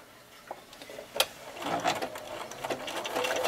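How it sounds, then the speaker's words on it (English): A sewing machine stitches stripes onto a t-shirt, its needle giving a faint, close mechanical whirring and ticking that builds after a few isolated clicks. "I'm going to sew around all four sides of each stripe."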